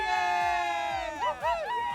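A group of children cheers loudly together in high, swooping whoops and shouts for about two seconds.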